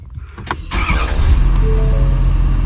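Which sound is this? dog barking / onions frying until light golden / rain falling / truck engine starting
truck engine starting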